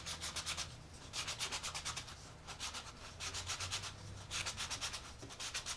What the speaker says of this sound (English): Sand the inside now, because after we cut the grooves, it's going to be a little harder.